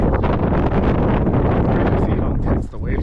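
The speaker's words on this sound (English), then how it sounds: "Windy as hell, but it's beautiful." Strong wind roars and buffets the microphone on sea cliffs in Ireland, loud and continuous throughout.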